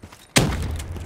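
A frag grenade detonating in Call of Duty Black Ops 3 lands as one sudden, sharp blast, then a rough rumbling tail fades over the next half second, fairly close and with no talking.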